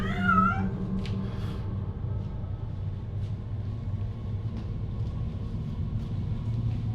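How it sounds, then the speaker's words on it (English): A cat gives one short, wavering meow at the start, followed by a low, steady rumbling background with a few faint clicks. "Stupid cat."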